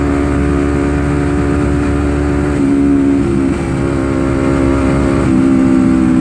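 A Honda CBR250RR with a stock engine and a wide 160/60 Corsa R93 rear tire accelerates on a night ride in Jogja, its engine droning loud and close with steady harmonics and small shifts in pitch, without talk.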